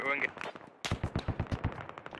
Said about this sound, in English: There's gunfire coming from my direct west